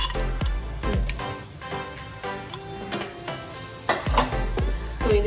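Whole spices sizzle in hot ghee in a pan for prawn biryani, with a steady crackle under repeated metallic scrapes and clinks of a spoon stirring them, close and fairly loud, with no talking.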